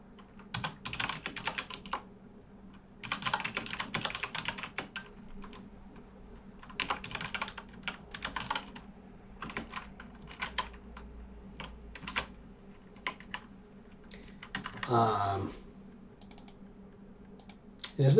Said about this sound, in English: I am having a weird time typing right now